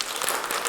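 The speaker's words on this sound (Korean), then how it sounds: "자, 우리 박수 한번 보내겠습니다" Short burst of church congregation applause after an infant baptism at a Sunday service, a dense, steady wash of many hands clapping at moderate volume.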